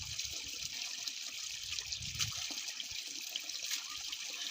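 Water runs steadily at a village water source where people drink straight from the flow, a soft continuous trickle and splash with faint background noise and no talking.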